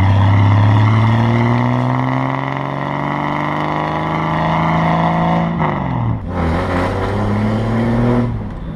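A 1975 Holden Belmont ute engine revving with a deep, diesel-like rumble, close and loud, pitch climbing steadily before dropping sharply and rising again in a second rev.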